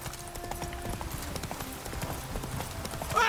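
Horse hooves clip-clopping at a riding pace in The Witcher 3 video game, steady rhythmic footfalls over ambient background, with a brief burst of another sound at the very end.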